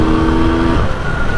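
A Yamaha RX 100 two-stroke motorcycle engine revs hard and close up, a loud buzzing tone that shifts pitch partway through the short burst.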